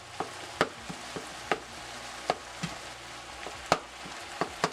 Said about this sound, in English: Continue to Break this meat up